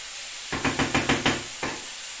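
Menestra, a vegetable stew, being stirred in a pan: about six quick scraping knocks in a row, then one more after a short pause, over a faint steady sizzle.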